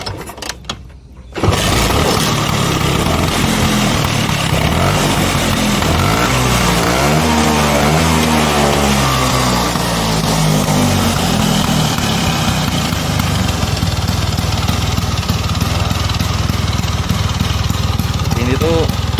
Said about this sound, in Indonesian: Oke, kita coba nyalain mesinnya.